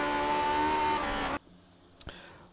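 Lotus 49 race car engine in the iRacing sim, a loud, steady high-pitched wail that cuts off abruptly partway through, leaving a quiet stretch with a couple of faint knocks.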